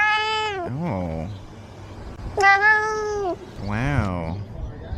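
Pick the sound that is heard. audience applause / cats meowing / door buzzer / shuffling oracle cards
cats meowing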